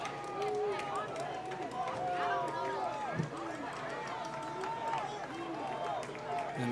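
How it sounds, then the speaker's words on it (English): A home crowd at a college football game between the Yellow Jackets and Judson makes steady noise in the stands, a sustained murmur with scattered shouts and claps under a commentator's voice. "Jackets asking the home crowd to make a little noise."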